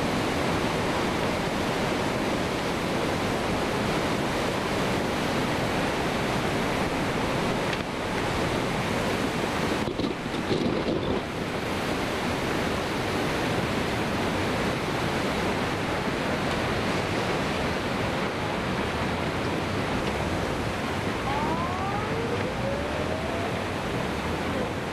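Tsunami waves in Japan surge in and swallow everything, heard as a loud, unbroken roar of rushing water. Wind buffets the microphone throughout, and nobody talks.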